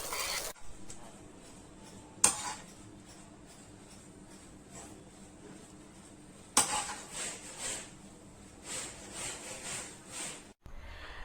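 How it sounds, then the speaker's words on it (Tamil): Cooked rice being stirred together with podi powder in a vessel makes soft, close scraping and rubbing sounds, broken by a couple of sharp metallic clinks of the spoon against the pot, with no talking. "இருக்கிற பொடியை வச்சு நான் ஜஸ்ட் கலந்து சாதம் பண்ணுறேன்"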